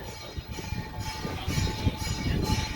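Low rumbling and rattling of a passing train, steady and fairly close, with irregular clanks and a faint tonal hum throughout.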